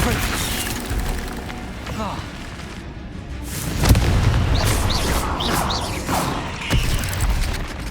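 Hogwarts Legacy spellcasting with a Confringo explosion spell landing as a sharp burst midway, followed by a rumbling blast and scattered crackling effects over busy game ambience.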